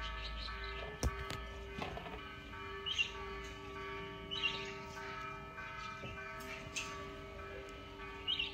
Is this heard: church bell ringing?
yes